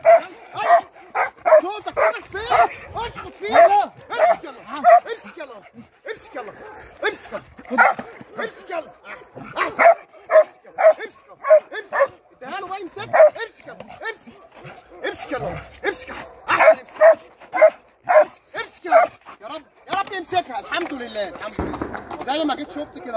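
A dog barks repeatedly in rapid bursts during outdoor attack training on open ground by a farm, loud and close, with handlers' voices calling commands between and over the barks.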